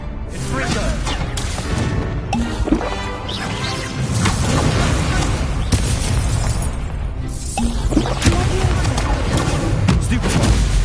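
Confringo fire spells from the Hogwarts Legacy wizarding video game burst in a dense run of loud crashes, booms and whooshes, layered over continuous game music and commotion during combat.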